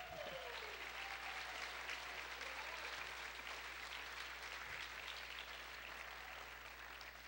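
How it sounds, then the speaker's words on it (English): A pageant audience applauds the Miss Texas USA 2017 contestants with steady, dense clapping that holds at an even level throughout. "Let's hear a round of applause for them."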